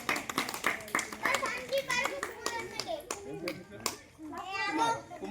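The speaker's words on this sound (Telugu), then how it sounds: "క్లాప్స్ పిల్లలు క్లాప్స్." Schoolchildren at a prize-giving applaud in bursts of uneven hand claps, while a teacher's voice and children's chatter run between them.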